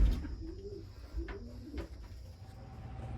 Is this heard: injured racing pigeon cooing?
yes